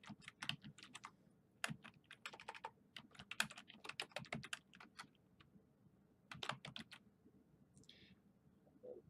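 Steady typing on a computer keyboard while an English paper document with an MLA heading is set up, irregular bursts of close, crisp key clicks with short pauses between runs, no talking.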